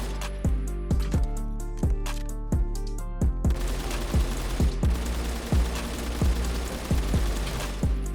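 Rifle gunfire in the shooter game Phantom Forces: a string of sharp, loud shots in a fast rhythm, first separate bursts and then steadier repeated fire across the whole stretch, with no talking.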